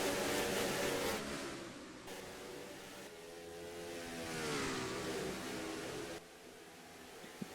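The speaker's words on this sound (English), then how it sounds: "you can just hear how good these cars sound coming out of the corners, just how well they accelerate" Race cars in a sim racing game night race accelerate out of corners, rising engine notes sweeping in layered harmonics, a continuous fairly quiet roar with shifting pitch and no talk.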